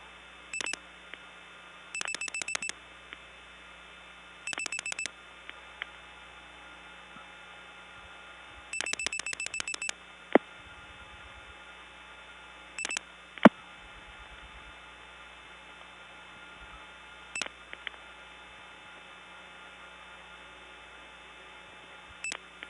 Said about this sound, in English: This time I'm actually going to dial 265.